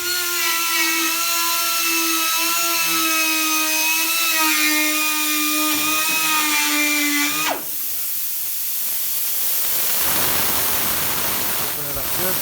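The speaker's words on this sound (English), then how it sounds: "You want a die grinder." Die grinder cutting a fiberglass deck lid, a loud sustained high whine with shifting pitch that drops abruptly partway through into a harsh broadband grinding roar, continuous and close.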